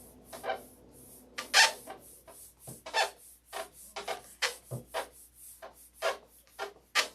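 Fine 5000-grit sandpaper is rubbed over a smooth painted canopy surface in quick, uneven strokes, each a soft, close, papery swish with brief pauses between passes.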